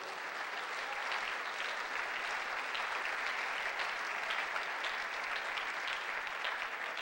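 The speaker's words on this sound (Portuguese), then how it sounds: "Applaud the Lord." A church congregation applauds steadily during a Sunday morning family service, a dense, even wash of clapping from many hands that holds at the same level throughout with no voices on top.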